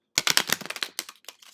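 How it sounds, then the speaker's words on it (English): Tarot cards being shuffled on a desk, a quick close flurry of crisp card slaps and riffles fading over about a second, no voices. "I'm going to shuffle one more time"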